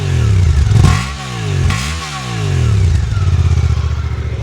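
A Suzuki GSX-8R motorcycle engine revs up twice through a fairly quiet exhaust, the pitch climbing and falling with each throttle blip, then settles into a loud, steady idle close by.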